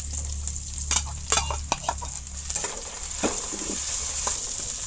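Chopped onion with garlic and ginger paste frying in oil for a bamboo shoot dish, a steady bright sizzle broken by sharp scraping stirs of a utensil against the pan, close and alone, with a low hum underneath.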